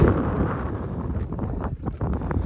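Strong wind blowing hard past a runner on an open route lined with trees, a loud, steady roar buffeting the microphone with rumbling gusts throughout, no voices.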